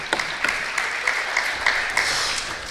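Audience applause rises and falls in steady clapping at an FFA ham and bacon sale auction, a dense crowd patter with a few sharper bursts, with no talk over it.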